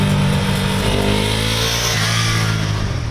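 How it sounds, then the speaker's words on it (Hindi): A 2017 KTM RC 390 single-cylinder motorcycle with drive-by-wire throttle revs up as the throttle opens, a loud, close engine roar rising in pitch and holding steady throughout. "जैसे आप थ्रोटल खोलते हैं तुरंत इंजन रिस्पांस करती है"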